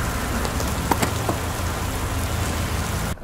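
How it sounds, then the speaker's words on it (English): Steady rain falling outdoors, a continuous even hiss of drops on surfaces with a few faint sharper taps, with no voices. "We might have rain."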